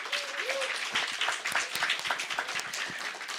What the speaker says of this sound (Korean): 하나님께 영광의 박수 올려드리면 좋겠습니다